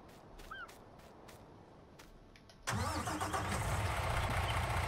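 A truck engine in the Landwirtschafts-Simulator 19 (Farming Simulator 19) video game cranks and roars to life abruptly partway through, then settles into a loud, steady idle after a quieter stretch with faint chirps.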